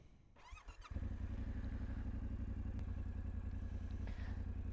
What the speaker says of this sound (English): So we're going to turn the bike on.